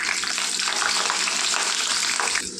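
Green chilies drop into hot oil for okra 65 and burst into a loud, dense frying sizzle that fills the whole moment, fading slightly at the very end.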